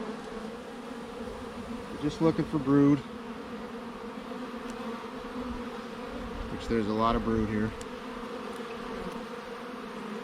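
Bees at an open hive in a bee yard hum in a steady, faint drone throughout, while a person talks briefly in two short stretches over the buzzing.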